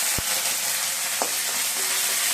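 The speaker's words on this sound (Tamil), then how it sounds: "இது இப்போ 2 பச்சை மிளகாய் போட்டுக்கலாம்." Green chillies hit hot oil in a pan for aval upma, giving a steady broadband sizzle with a couple of brief stirring knocks, close and continuous with no talking.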